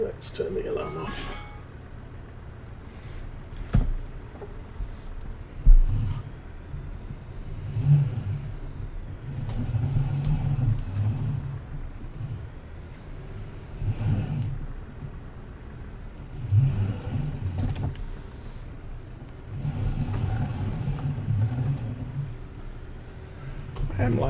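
A tractor engine in Farming Simulator 19 rumbles low and steady, rising in repeated surges as it works, with someone talking over it throughout.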